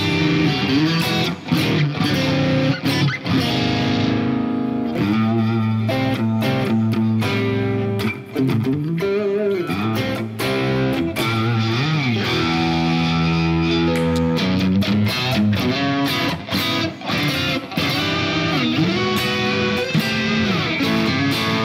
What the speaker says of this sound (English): distortion pedal, see what it sounds like.